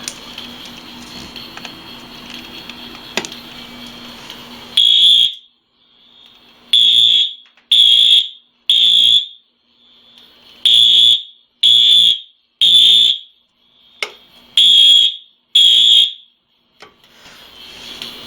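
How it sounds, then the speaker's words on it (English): A loud Wheelock fire alarm sounds in repeated high-pitched bursts after a few seconds of busy background during a system test, then cuts off and restarts several times with short silent gaps. "with Wheelock alarms, it takes a little longer for them to silence"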